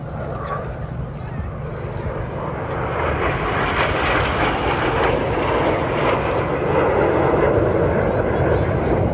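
Red Arrows jets flying in tango formation at an Armed Forces Day display at Jordanstown Loughshore Park, a loud continuous jet roar that swells slightly over time, with a commentator talking over it.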